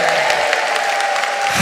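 Congregation at a special revival service applauding to give glory to God, a lively burst of many hands clapping steadily over a sustained tone.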